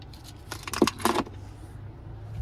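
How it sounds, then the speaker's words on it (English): Key fob for a 2023 Chevrolet Silverado 1500 Custom jingles in the hand, a few short metallic rattles in a quick burst near the middle over a quiet cabin background. "here's our key fob with remote start"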